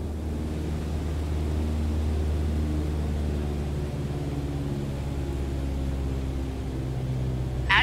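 A Cessna 152 piston engine throttled back to 1800 RPM in Microsoft Flight Simulator drones steadily at a low, even pitch, a constant cabin hum with no voices.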